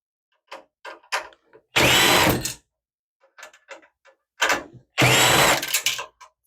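Screws come out of the power supply of a Dell Inspiron 3847 desktop: light clicks and handling taps around two loud, close whirring bursts from a power screwdriver, each lasting about a second, with no speech.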